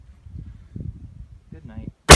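A large homemade potato cannon fires a cucumber with one sharp, loud blast at the very end, after a short stretch of low muffled voices.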